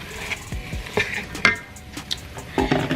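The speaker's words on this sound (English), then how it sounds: "Stir it up a little" A spoon stirs spaghetti sauce seasoned with Italian herbs in a pot. It scrapes and clinks against the pot close up in uneven strokes, over a low simmering sizzle.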